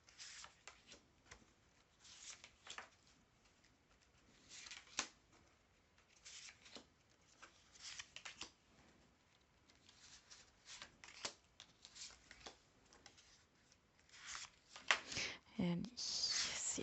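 Tarot cards being shuffled by hand, repeated soft riffling and sliding bursts at close range, fairly quiet, with a few brief louder flurries near the end.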